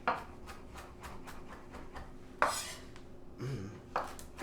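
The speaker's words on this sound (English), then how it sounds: "You definitely want to go ahead and cut it finely, chop it finely" A knife taps and clacks against a cutting board while finely chopping cilantro leaf tops, a steady quiet rhythm of light knocks with a few sharper clatters, no talking.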